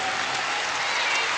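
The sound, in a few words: basketball crowd applauding and cheering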